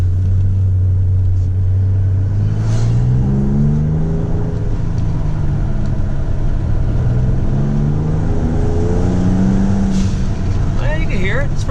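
A 2020 Ford Raptor fitted with AMS boost tubes rumbles loudly close by, rising and falling in pitch as the engine revs. Voices speak over the steady engine noise.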